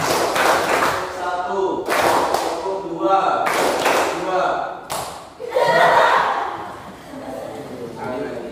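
Rhythmic hand clapping by a group in a classroom exercise, sharp claps coming in bursts set to a counted pattern, with a teacher's voice calling out between them.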